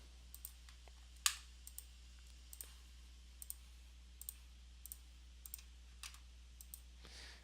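Computer mouse buttons click at a steady, unhurried pace, a dozen or so short, faint ticks over a low electrical hum while someone works in point cloud viewer software.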